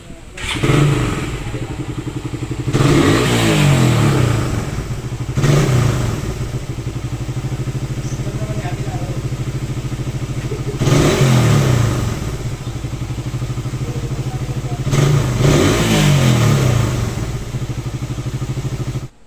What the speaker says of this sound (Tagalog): meron nga siyang ingay sa makina